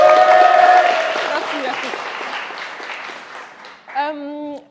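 An audience at a Tam Tam Show talk bursts into loud applause that gradually thins and fades, before a woman on stage briefly thanks the crowd.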